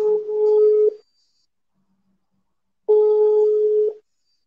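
Telephone tone heard while placing a phone call: two steady one-second beeps separated by about two seconds of silence, like a ringback signal.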